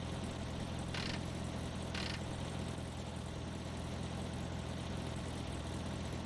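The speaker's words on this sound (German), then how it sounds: "Der Wagen ist so scheiße schwach, der Motor." A weak car engine idles in the game The Long Drive with a low, steady rumbling hum that runs continuously at low level, broken by two short hissy bursts near the start and no one speaking.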